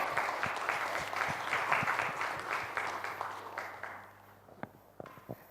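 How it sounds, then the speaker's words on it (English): An audience at a fireside chat on sports in India applauds, a dense spell of clapping that thins out and dies away into a few scattered final claps. "Ladies and gentlemen, please join me in giving a very warm round of applause to Harendra Singh, winner of the World Cup."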